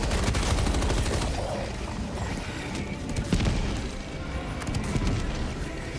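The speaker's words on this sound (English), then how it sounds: "Oh yeah, machine gun." Sustained machine gun fire in Helldivers 2 rattles on for the whole stretch, dense and steady with a few heavier bursts mixed in amid battle noise.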